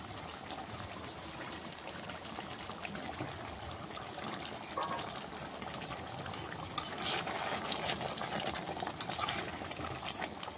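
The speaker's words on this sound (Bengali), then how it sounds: "এই যে ঝোলটা ফুটে শুকিয়ে এসছে" Curry gravy bubbles and simmers in a pot, a soft, continuous wet blubbing and popping close by, growing slightly livelier toward the end, with no talk.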